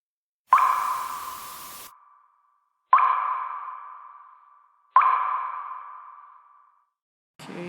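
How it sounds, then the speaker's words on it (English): Synthesized water drop effects in an emotional progressive house track: three clear, ringing drip tones in turn, each a sharp plop that decays over about two seconds, loud and isolated, with a fourth just starting. "Now I added some water drops effects."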